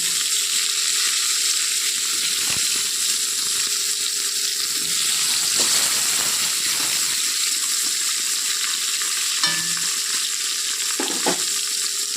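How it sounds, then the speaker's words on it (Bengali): Pointed gourd (potol) pieces fry in hot white oil, giving a loud, continuous sizzle with occasional spatters and bubbling pops; no one speaks. "এখন এটা একটু ভেজে নেব আমি তেল দিয়েছি সাদা তেলেই ভাজবো পটলগুলো"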